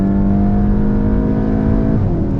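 VW Golf GTI engine droning loud and close as it laps Sepang International Circuit, a steady high-revving tone holding throughout with a slight pitch dip near the end, no voices.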